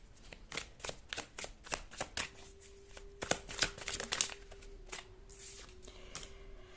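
Tarot cards being shuffled by hand, a close series of quick riffling snaps and flicks in uneven bursts, with a faint steady hum behind them.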